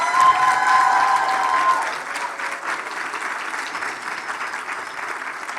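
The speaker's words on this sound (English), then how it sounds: "Let's give them a big round of applause." Audience applause at an occupational therapy pinning ceremony, a dense burst of clapping with some cheers that starts strong, then eases into steady, moderate clapping from a seated crowd.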